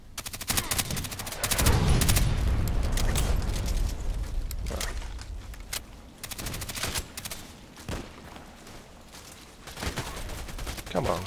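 Gunfire from a VSS Vintorez rifle in a video game, dense volleys of rapid shots in bursts with short pauses, loud and close, while a voice talks over parts of it.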